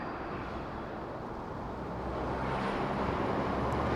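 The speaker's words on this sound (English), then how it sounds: "Only the sounds of truck." Trucks driving on an expressway, a continuous broadband roar of passing heavy traffic heard from some distance, rising slightly louder toward the end.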